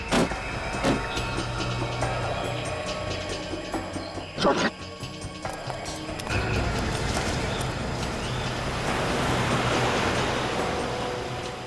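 A car speeds along a road, with engine and tire roar rising to a steady rush, over scattered clicks and knocks and some short voices early on.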